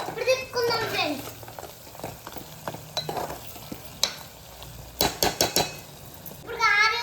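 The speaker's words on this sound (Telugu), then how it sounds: "ఇప్పుడు తిప్పుకుందాం ఫ్రెండ్స్." Mutton curry with chilli powder stirred in a frying pan, an intermittent sizzle with scraping and clattering strokes of a spoon, while children's voices chatter nearby at the start and end.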